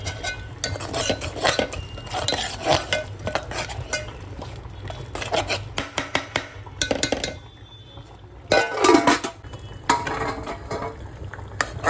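Lemon juice being stirred into a ground masala paste for a mutton dal curry, a steady run of spoon scraping and clinking against a metal pot, loud and close, with brief louder bursts and no talking.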